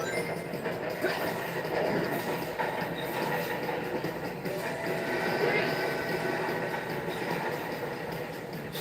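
Train running along railway tracks in Sonic 06, a continuous loud rumble with clattering wheels and metallic squeal, under occasional talk.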